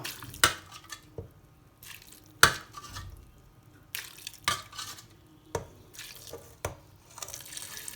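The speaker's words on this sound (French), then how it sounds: "Ensuite, dans ma casserole, je vais rajouter mon bouillon." Broth poured into a saucepan with a spoon stirring it, soft liquid splashing and sloshing broken by sharp clinks of utensil against the pan, fairly close and without talk.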